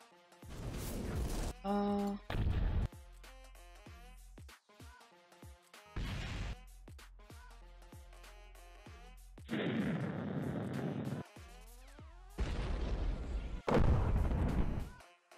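Explosion effects from a Roblox Studio game, repeated loud booming blasts in separate bursts with crackling, sustained noise between them and brief quieter gaps.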